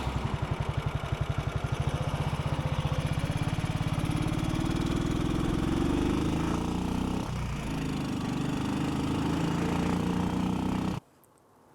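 A 1957 BSA B31 single-cylinder motorcycle engine runs after a kick start, thumping in a fast, even pulse close by before abruptly falling quiet at the end.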